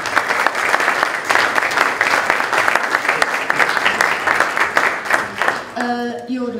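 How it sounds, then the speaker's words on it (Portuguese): Sustained applause from the audience at a panel on specialised arts education in music and dance, dense crisp clapping filling the room, then a voice begins speaking at the very end. "não sei se pedir uma salva de palmas, realmente, para quem teve essa visão"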